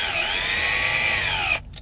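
A power tool spins out the bolts holding the throttle body on a Crown Victoria or Grand Marquis, giving a steady loud whirring drill tone for about a second and a half before it cuts off abruptly.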